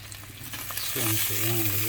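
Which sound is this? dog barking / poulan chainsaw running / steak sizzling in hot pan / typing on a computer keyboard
steak sizzling in hot pan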